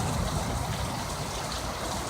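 Pouring rain during a thunderstorm makes a broad, steady roar of water, loud and unbroken, with no voices over it.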